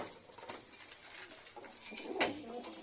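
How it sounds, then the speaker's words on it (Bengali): Lakka pigeons coo softly on a rooftop on a rainy-season day, a few faint, low murmuring calls heard from close range in quiet surroundings. "ওইদিকে একটা সাদা পায়রা বসে আছে"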